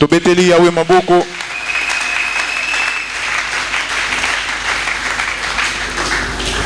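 A church congregation breaks into sustained applause right after a short burst of voice, clapping filling the room loud and steady to the end.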